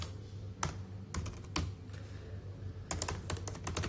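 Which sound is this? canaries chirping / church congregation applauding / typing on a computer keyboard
typing on a computer keyboard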